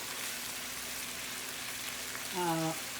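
Chicken tikka sizzles steadily in a frying pan, a constant crackling hiss like light rain, with a brief tonal sound rising over it near the end.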